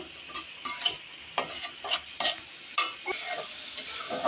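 Spiced dried fish frying in a pan, a spoon stirring and scraping in irregular strokes over continuous close sizzling, moderately loud, with no talking.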